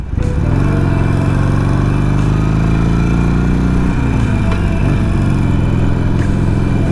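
A Harley-Davidson 883 motorcycle rides along with a loud, steady engine drone close by, its pitch rising through a gear and then shifting down around the middle.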